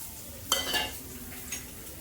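Finely chopped onions sauté in a pan with a low, faint sizzle, broken by a couple of sharp scraping clinks of a spatula stirring them. No one speaks.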